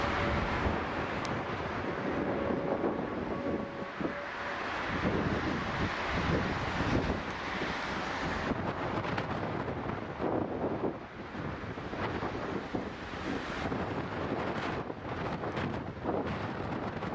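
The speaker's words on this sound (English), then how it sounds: "Winds this strong can make walking around difficult, so imagine what it does to a pilot trying to land a plane." Strong storm wind from Storm Bara at Manchester Airport roars continuously, buffeting the microphone with heavy, gusty broadband rumble throughout, loud and close, with no talking.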